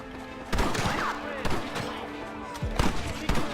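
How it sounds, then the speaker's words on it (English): Rapid bursts of Gatling gun fire in the western game Red Dead Redemption, several heavy thumping shots spaced across the moment with shouting voices mixed in. "You man the Gatling gun, Marston!"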